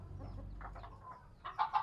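Chickens in a farm coop cluck softly in the background, with a couple of sharper, louder clucks near the end.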